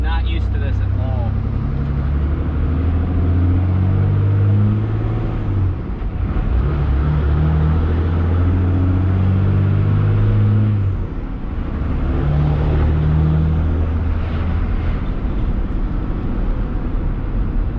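A 12 valve Cummins diesel hotshot truck drives with a loud, steady low drone that dips and swells as it shifts, heard from inside the cab under talking.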